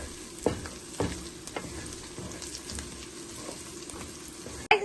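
Rice and dry fenugreek leaf being stirred together in a bowl, giving soft scraping and swishing strokes with a few sharper clinks of a spoon against the bowl, fairly close.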